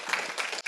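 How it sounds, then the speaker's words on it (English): An audience at an education event breaks into a brief burst of applause, a dense wash of clapping at moderate volume heard for less than a second. "You can clap."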